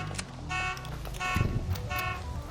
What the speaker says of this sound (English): A car alarm,